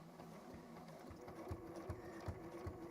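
A sewing machine top stitching fabric runs steadily at close range, a continuous mechanical whir with regular rhythmic thumps of the needle, alone without talk.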